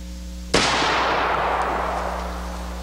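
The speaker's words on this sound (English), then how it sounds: "Let's go ahead and shoot it and see where the mark winds up." A single loud, close gunshot from a firearm fitted with a Van Comp barrel, a sharp crack followed by a long booming decay and echo that fades over about two seconds; no speech.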